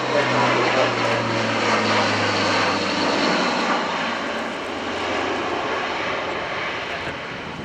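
An Airbus A400M military transport flies past at an airshow, its turboprop engines giving a loud, steady roar with a low propeller drone that slowly fades over the seconds, while a commentator talks over it.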